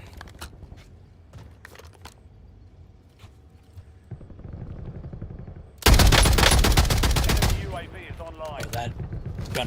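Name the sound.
machine gun fire in the video game Call of Duty Warzone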